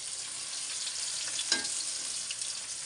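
Okra being fried in a pan for a hilsa fish curry gives off a constant dense sizzle, with one brief stirring scrape partway through.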